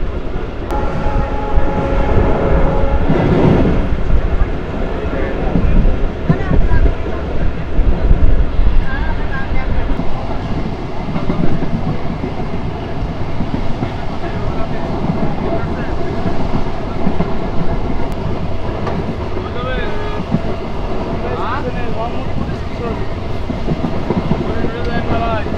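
Mongla commuter train rolling on the new rail line from Phultala junction toward Mongla port: a continuous loud, close rumble with rhythmic wheel clatter and rattling carriages throughout, while someone talks over it.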